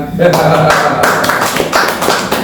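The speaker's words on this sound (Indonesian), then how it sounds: "Boleh tepuk tangan." Audience clapping after a closing statement at an HR discussion event, a short burst of close, uneven hand claps with a voice briefly over the start.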